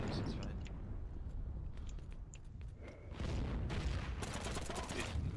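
Gunfire and battlefield noise in the World War II shooter Heroes and Generals: dense, rolling bursts of shots and distant booms fill the whole stretch, swelling louder near the end, with faint voices mixed in.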